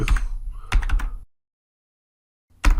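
Numbers are typed on a computer keyboard while entering an answer on the Moodle learning platform: two bursts of quick, close keystrokes, a stretch of silence, then typing starts again.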